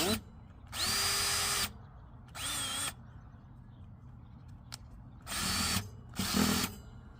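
A power drill runs in four bursts, some of them long and steady and some short, close up, as it loosens screws on a Surly Skid Loader front rack fitted to a Bosch e-bike.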